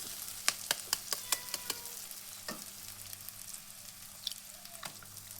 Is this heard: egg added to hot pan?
yes